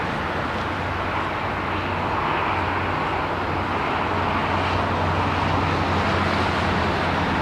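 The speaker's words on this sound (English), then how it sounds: "Look at this beautiful Austrian 320 now, man." An Austrian Airlines Airbus A320 lands at London Heathrow in low visibility, a loud continuous jet roar with a steady low drone that swells slightly, with no talk.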